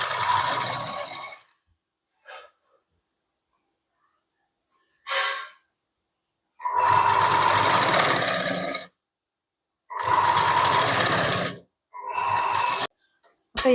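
An electric sewing machine stitches a katori blouse in several loud, close bursts of whirring run, separated by silent pauses of varying length.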